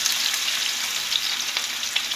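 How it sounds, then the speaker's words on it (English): Yukon potatoes sizzle steadily in hot olive oil in a skillet, a close, even crackling hiss with a few sharper pops throughout. "now we're going to add our potatoes into the skillet"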